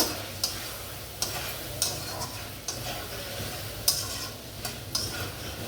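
Cabbage being stir-fried in a pan, with scattered sharp clinks of a spatula against the metal over a low, steady frying hiss, close by and fairly quiet.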